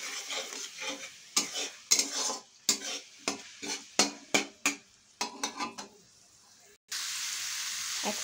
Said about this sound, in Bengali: এটা দেওয়ার পরে 1 থেকে 2 মিনিট আমি আরেকটু এভাবে নাড়িয়ে চাড়িয়ে নেব।